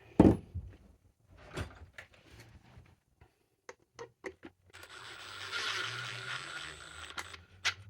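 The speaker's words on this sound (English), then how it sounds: "So then what we're going to do, we're going to put a screw in." Screw being driven by hand into a plastic wall plug, heard as a series of close, sharp clicks and creaks followed by a longer grinding stretch as it tightens.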